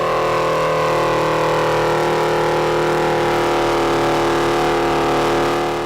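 A classic tractor at the Geelong Machinery Show tractor pull, its engine droning loud and steady with a strong harmonic hum, close to the microphone and holding an even pitch throughout, with no talk.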